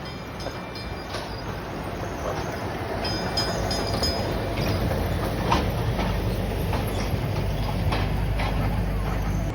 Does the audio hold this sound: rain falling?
no